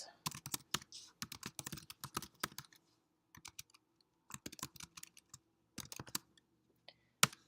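An address is typed on a computer keyboard in rapid, close keystroke bursts with a brief pause midway, then a few scattered keys and a final loud key press.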